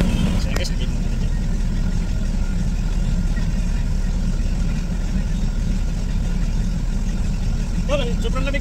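A 2010 Chevy truck's engine runs steadily as it is driven after a rack and pinion replacement, a low continuous rumble heard close throughout, with people talking intermittently over it.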